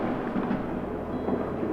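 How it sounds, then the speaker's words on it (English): Distant New Year's Eve fireworks in Sweden make a low, continuous rumbling roar with no clear separate bangs, steady throughout. "I can hear the fireworks."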